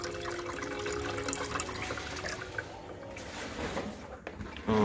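Water runs steadily from the outlet of a Kangen K8 alkaline water machine set up on a kitchen counter, a continuous close-up splashing stream that thins slightly toward the end.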